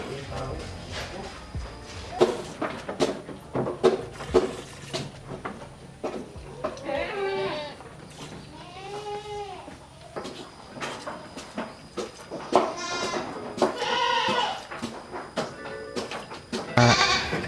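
Goats bleat repeatedly with wavering, nasal cries amid a busy background of clatter and indistinct voices as workers milk them.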